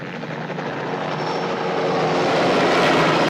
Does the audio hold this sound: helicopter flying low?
yes